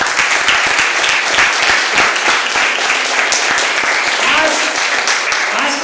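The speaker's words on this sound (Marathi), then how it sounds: "या पण एकदा जोरदार टाळ्या" Loud, sustained applause from a church congregation celebrating the church's fourth anniversary, dense clapping filling the whole stretch without a break.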